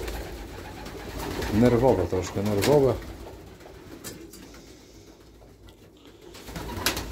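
Racing pigeons in a loft coo in two bursts of deep, throbbing rolling calls, close and fairly loud, then quieter rustling follows while someone speaks briefly.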